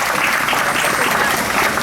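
Audience applause at a conference in Madrid, a dense, loud, steady clapping from a crowd filling the room without a break.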